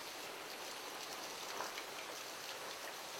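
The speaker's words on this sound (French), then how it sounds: "aujourd'hui en plus, il pleut" Steady rain falls at a temple dedicated to water kami in Yoshino, a soft, even hiss of drops with no voices and no change in strength.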